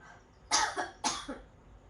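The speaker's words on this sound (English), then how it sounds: "it's more like a huff sound" Two forceful, breathy huff coughs in quick succession, done as a breathing exercise, each a short burst of air followed by a softer tail, close to the microphone with quiet between.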